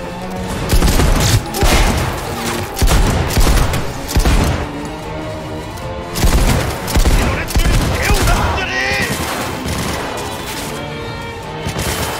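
Rapid bursts of gunfire from the video game Cyberpunk 2077, loud and close, fired in repeated volleys with brief gaps between them and a busy combat soundscape underneath.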